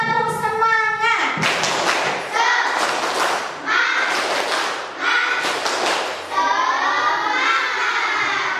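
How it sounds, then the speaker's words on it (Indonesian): A class of children performs the rhythmic 'tepuk semangat' spirit clap in a classroom, several loud bursts of clapping and chanting in sequence with children's voices. "kita akan tepuk semangat dulu"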